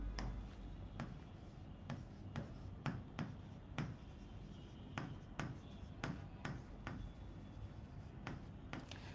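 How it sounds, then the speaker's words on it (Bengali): A pen writes on paper in a different ink color, with sharp scratchy strokes and taps in an irregular rhythm, close and fairly quiet with no talk. "তাহলে আমরা এটাকে একটু অন্য কালি দিয়ে লিখি।"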